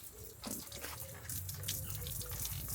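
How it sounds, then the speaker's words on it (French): Steady running water from an open-air outdoor shower at a desert camp in Namibia, a close, continuous splashing hiss with no talking. "une douche à ciel ouvert nous attendait"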